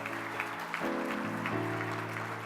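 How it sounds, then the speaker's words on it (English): An audience at the 2018 Chicago/Midwest Emmy Awards gives a round of applause, steady dense clapping mixed with music filling the hall, continuous throughout without speech. "hear a round of applause for my sister, Candace Gregg."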